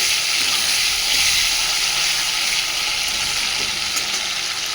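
Tomatoes frying in ghee over a spice tempering for bhog khichuri made with Gobindobhog rice, giving an even, continuous close sizzle and hiss with no voices.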